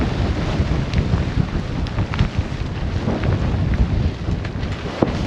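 Storm wind buffets a sailboat at sea, a loud continuous roar rushing over the microphone with gusting surges and faint water wash beneath, no voices.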